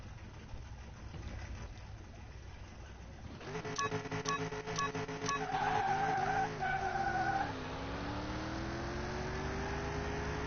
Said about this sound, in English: It's definitely gonna smoke some tires going.